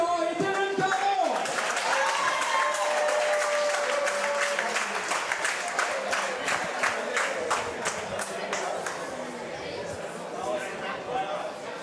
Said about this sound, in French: Je vous demande d'applaudir nos deux combattants, Pierre Hudon et Dylan Caron.